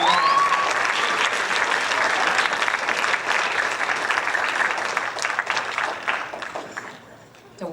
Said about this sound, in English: you have to give percussion an absolute big round of applause